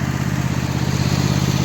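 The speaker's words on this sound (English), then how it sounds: "little red tractor never lets me down, bless it. I'll let it run for a few minutes" A small red tractor engine runs at a steady idle, a loud, close, even chugging and clatter with no break and no voices.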